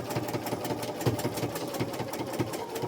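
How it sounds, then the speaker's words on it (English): Sewing machine stitching ribbon for a competition ribbon, a steady fast rhythmic needle chatter with a low motor hum running continuously and close throughout. "So I'm just going to sew all the way down"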